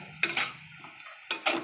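A spoon scraping and clinking in a pan of pumpkin seasoned with salt and turmeric while making a Bengali chal kumro jhal, two short bursts of stirring close by with a quiet pause between.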